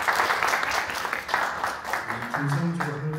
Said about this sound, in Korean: 박수까지 주십시오